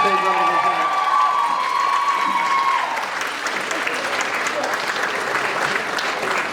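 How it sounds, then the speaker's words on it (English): Audience applause for a Rose of Tralee contestant at the Wexford event, a loud steady wash of clapping with some cheering from the crowd that continues throughout. "Give her a big round of applause."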